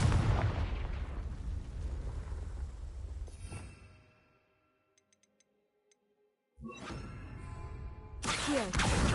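A Confringo blasting spell detonates in Hogwarts Legacy on PS5: a heavy explosive roar that fades into near silence broken by a few faint ticks, before fresh rumbling blasts swell back in.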